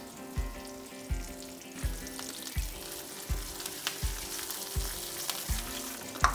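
Green chillies, asafoetida and curry leaves sizzle steadily in ghee with a close, crackling hiss, broken by regular dull knocks roughly every half second, as if a spoon strikes the pan, while a faint hum runs underneath.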